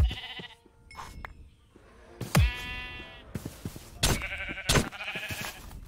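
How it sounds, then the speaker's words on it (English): Sheep bleat in the Minecraft modpack RLCraft, several wavering, nasal calls spread over a few seconds among thumps and other game noises, fairly close and clear. "there's my sheep"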